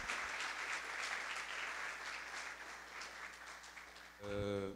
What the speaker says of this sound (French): Des applaudissements pour Jeff et pour Fabienne